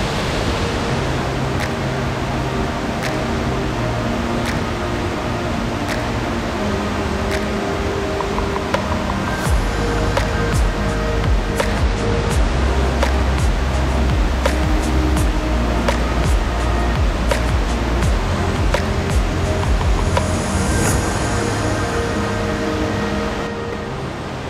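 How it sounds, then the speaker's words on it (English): Box Log Waterfall in Lamington National Park, Queensland, roars steadily as a loud, broadband rush of falling water, unbroken and close, with no voices over it. "I think it's called Box Log Waterfall. It's stunning."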